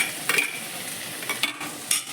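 Garlic and ginger sautéing in a teaspoon of butter in a hot kadai for spicy veg pasta, a faint steady sizzle broken by a few short scraping stirs, close and quiet.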